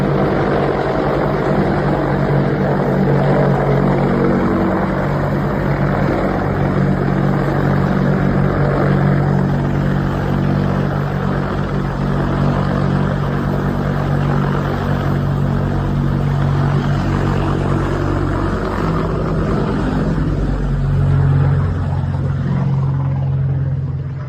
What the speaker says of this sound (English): this buzzing of this Apache helicopter